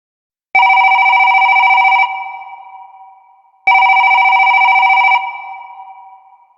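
A telephone rings twice, each loud electronic trill lasting about a second and a half and then fading, with a pause between rings across an otherwise silent background.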